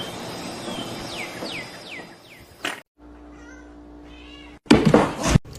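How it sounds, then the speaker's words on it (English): A cat meows repeatedly in a quick series of rising calls, followed by a few more meows after a short pause and then a louder burst of noise, all close and clear. "Do something, cat."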